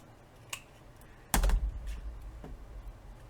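A sheet of paper is snipped with scissors, giving a few faint clicks followed by one sharp, close cut and a brief rustle in a quiet room.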